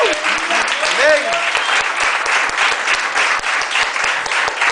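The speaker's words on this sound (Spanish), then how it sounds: "Denle un aplauso al Señor." Loud, sustained applause from a church congregation at a service, dense rapid clapping throughout with voices rising over it near the start.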